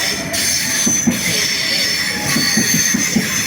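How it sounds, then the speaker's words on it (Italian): A Trenitalia Frecciarossa high-speed train pulling into a platform at Padova station, wheels squealing and steel rolling over the rails with rhythmic clunks, loud and close, with no one speaking nearby. "di Trenitalia delle ore 17:56 per Roma Termini in arrivo al binario 1"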